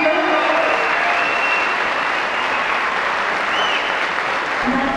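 A crowd in the Texas State Capitol gallery claps and cheers on a lobby day, a steady, dense wash of applause that stays loud and unbroken throughout.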